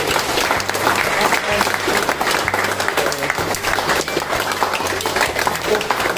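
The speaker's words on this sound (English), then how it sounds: "Let's give it up for Mickey, let's give him a round of applause." An audience at a boxing event welcoming a world champion breaks into loud, sustained applause, dense clapping filling the room throughout, with a faint voice underneath.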